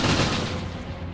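Continuous gunfire from a multiplayer shooter video game, a dense burst of rapid shots rattling loudly through the whole moment with no talking over it.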